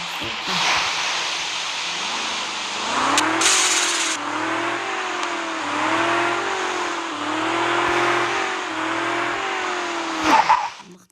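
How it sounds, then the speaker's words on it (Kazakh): A Mercedes car revs and accelerates hard during a top-speed run, engine pitch climbing in repeated rising sweeps between gear shifts, loud and close inside the car, with brief tire or wind noise and a voice near the end. "Мынау осы Мерседестің бүгін максимальный скоростын тексеретін боламыз."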